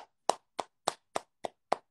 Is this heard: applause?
yes